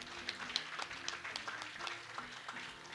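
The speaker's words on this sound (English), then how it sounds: "Let's give ourselves a big round of applause." Applause from attendees at a 50th high school reunion celebration, a soft, fairly distant patter of many hands clapping steadily throughout, with no speech over it.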